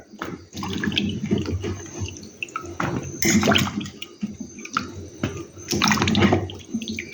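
Tapioca is washed by hand in water, with repeated close splashing, sloshing and pouring bursts that come in uneven waves with brief quieter pauses between.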